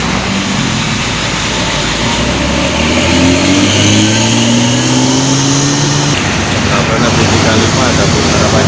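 A Harapan Jaya intercity bus on an arterial road revs its engine loudly and close by, a sustained rising drone that climbs in pitch over several seconds before dropping back, with steady road noise throughout.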